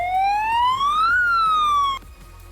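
A police siren alert from a game mod plays loud and close, one rising wail that sweeps up and then falls back down before cutting off sharply after about two seconds.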